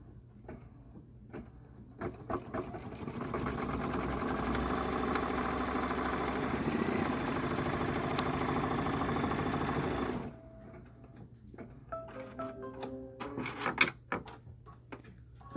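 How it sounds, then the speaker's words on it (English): A sewing machine stitches snow globe base fabric in the hoop, a loud steady mechanical whir running for about eight seconds, then stopping, followed by quieter handling clicks and rustles. "I'm going to put then my Snow Globe base fabric down and stitch this down."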